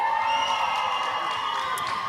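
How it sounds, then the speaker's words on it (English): Crowd cheering at the Tropicarnage Cup roller derby bout between Sun State and Reef City: a steady, loud wash of shouts and whoops that holds through the whole moment without letting up. "we're getting cheers from the crowd for the epic derby"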